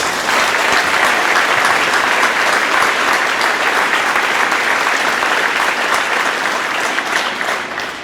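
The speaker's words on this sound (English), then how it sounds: "So let's give them a round of applause." Sustained, loud crowd applause fills a high school football championship welcome-home celebration, steady dense clapping from many hands throughout, tapering slightly at the end.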